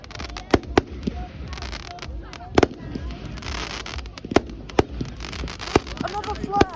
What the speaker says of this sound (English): Now it's both the exploding ones and also the flares. There's fireworks and flares.